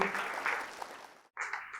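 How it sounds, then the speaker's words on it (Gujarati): Loud applause from an audience at a poetry gathering in Vidyanagar, Anand: a dense burst of clapping that fades, breaks off briefly, then resumes strongly. "જોરદાર તાળીઓ"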